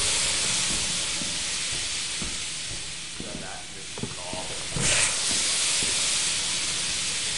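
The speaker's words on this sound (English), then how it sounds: "there's a steam leak over here" A steam leak hisses inside the Lethal Company video game, a loud, continuous broadband rush that holds steady throughout, with a brief sharper burst partway through and faint background clatter.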